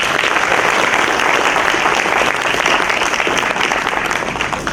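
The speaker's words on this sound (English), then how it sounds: "A round of applause for the video," Dense, steady applause from a conference audience fills the room, loud and continuous with no talk over it.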